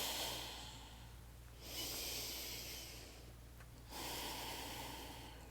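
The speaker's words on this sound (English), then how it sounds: "Deep, slow breathing." Slow, deep breaths during a yoga flow, two long airy inhales and exhales close to the microphone, each rising and fading in a calm, steady rhythm.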